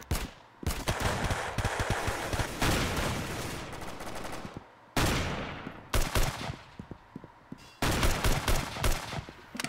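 Rapid automatic gunfire in the Roblox shooter Arsenal, loud dense bursts of shots broken by short silent gaps, with no talking.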